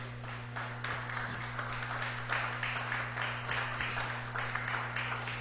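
A congregation applauding during a Spanish-language church service: soft, continuous clapping from a crowd, fairly faint and somewhat distant, over a constant low electrical hum.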